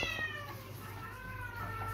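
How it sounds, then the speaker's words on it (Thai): A cat meows in a drawn-out, wavering cry over a steady low hum, fairly close, inside a motorcycle parts shop. "ก็ได้ยินเสียงแมวร้องหน่อยนะ"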